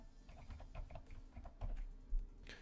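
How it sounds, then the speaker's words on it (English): Rapid clicking on a computer keyboard while typing a Rust cargo test command, steady close-up keystrokes with a few louder taps and no talking. "So we'll type in cargo test dash dash and then dash dash show dash"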